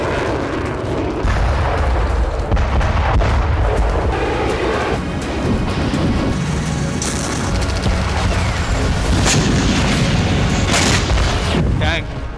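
Repeated heavy booms and thuds of artillery shelling over a rumbling, chaotic battlefield background, with faint voices mixed in.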